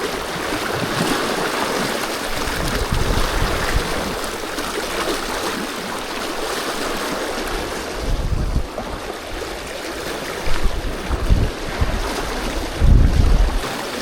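Fast-flowing water of the River Tyne on a salmon fishing beat, rushing loudly and steadily around a wading angler, with gusts of wind noise buffeting the microphone and a few heavier splashes and surges near the end.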